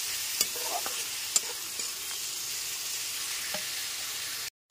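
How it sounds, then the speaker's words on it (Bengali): Ginger and garlic fry over a low-to-medium gas flame, giving a steady, close hiss of sizzling oil with a few light clicks of stirring. The sound cuts off abruptly at the very end. "গ্যাসের ফ্লেমটা এখন লো টু মিডিয়ামে রেখে আদা রসুনটাকে খুব ভালো করে কষাতে হবে।"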